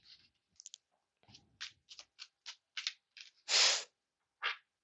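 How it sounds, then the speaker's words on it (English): Tarot cards being shuffled by hand, a quick series of crisp riffling clicks and flicks in irregular bursts with one longer swish, close and quiet, no voice. "Let me shuffle these real quick."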